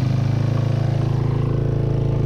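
2003 Honda CR 125 dirt bike engine in first gear digging into sand, a steady pulsing mid-pitched engine drone held close and level for a couple of seconds.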